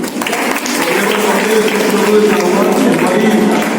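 Audience applause at a college of pharmacy prize distribution in Aligarh, a dense, steady wash of clapping from a crowd that holds for several seconds with some chatter mixed in.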